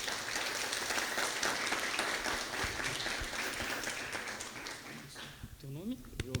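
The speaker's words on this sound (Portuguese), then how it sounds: "Uma salva de palmas para essas pessoas" Sustained applause from an audience at a gathering, a dense steady clatter of many hands that thins toward the end as a voice starts to speak.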